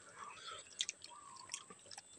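Someone chews a hot bottle gourd and sardine vegetable dish, with soft wet mouth sounds and faint clicks close to the mic while quiet speech murmurs along underneath.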